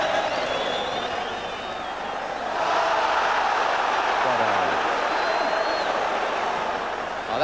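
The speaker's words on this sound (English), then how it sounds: "And the crowd getting behind Stoke now." A football crowd at a Stoke City match against West Ham United roars steadily in a packed stadium, the broad noise swelling louder midway and holding there, with a commentator talking over it.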